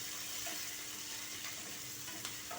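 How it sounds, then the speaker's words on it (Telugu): Lentils frying in a pan for a mixed vegetable fry give a steady, gentle sizzle close to the microphone, with faint stirring clicks and no talking. "పప్పులు కొంచెం వేగాలి"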